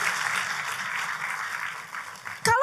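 A church congregation applauds during a sermon, a soft, distant patter of many hands that fades slightly before a sharp close noise cuts in at the end.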